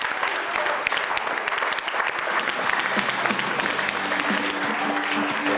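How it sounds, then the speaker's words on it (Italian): Studio audience applauding steadily for an athlete on a televised sports program, dense clapping sustained evenly throughout at moderate loudness with a faint tonal sound near the end. "facciamo un applauso a Vittorio Podestà"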